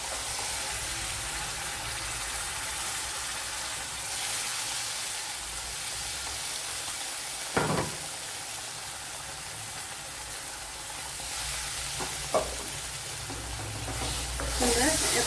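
Blended tomato paste sizzling and being stirred in hot sesame and coconut oil for an egg roast, a steady frying hiss with a few sharp clinks of the spoon against the pan.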